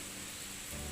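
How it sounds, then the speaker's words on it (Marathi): Rain falling in a Konkan village, a soft, even hiss of drops heard alone for about a second. "तो मध्येच पाऊस पडला आहे"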